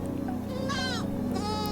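Goats bleat in quick succession, two wavering cries close by over a steady low background hum.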